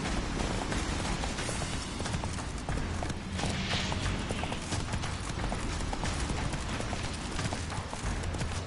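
Roach, the horse in The Witcher, galloping hard in a fast continuous clip-clop of hooves, loud and dense under a rushing, noisy game soundscape with no talk.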